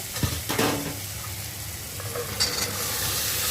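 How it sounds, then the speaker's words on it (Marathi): Boiled chickpeas drop into a pan of roasted spices for chana masala and get stirred, with a soft sizzle, a few scraping stirs and light clatter close by. "आता मी चणे टाकते"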